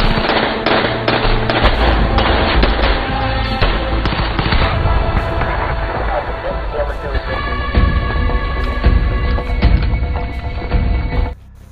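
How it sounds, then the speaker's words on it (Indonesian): Gunfire rattles through a film shootout: loud, dense bursts of rapid shots crackle almost without pause, with heavier single reports scattered through the barrage until it cuts off abruptly. "dan terjadilah baku tembak di sana"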